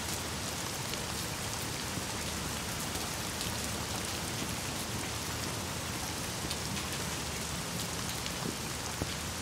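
Steady rain in the horror video game The Medium, a dense, even hiss of falling drops that carries on unbroken and fairly quietly, with no voices over it.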